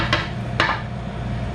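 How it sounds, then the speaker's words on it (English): Two quick scrapes of a knife's butt end dragging across a cutting board into a trash bin, each a short bright stroke over steady low kitchen background hum. "Whenever you scrape a cutting board into the trash, use the butt end of your knife"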